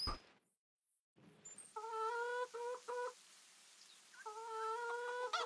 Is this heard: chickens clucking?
yes